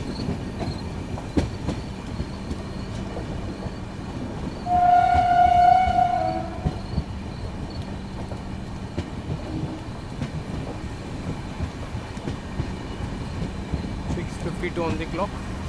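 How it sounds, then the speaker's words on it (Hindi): The Darjeeling Mail passenger train rumbles steadily along the tracks at high speed through Raninagar Jalpaiguri railway station, its horn sounding a sustained blast partway through, wheels clattering throughout. "And we are skipping through Rani Nagar Jalpaiguri railway station."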